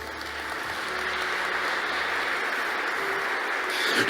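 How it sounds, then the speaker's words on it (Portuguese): A crowd at a talk on humility gives a steady round of clapping, a dense, even wash of many hands that holds at a constant level for about four seconds with no voices over it. "A Maria uma salva de palmas."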